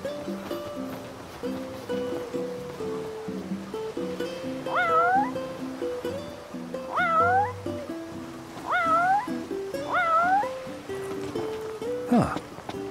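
A cat meows several times in the video game Final Fantasy XV, a series of distinct, moderately loud mews spaced a couple of seconds apart over a tonal game music bed, with a final sharper cry near the end.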